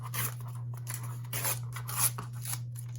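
Paper is torn by hand against a ruler in a series of short, crisp ripping bursts close to the microphone, with a steady low electrical hum underneath and no talking.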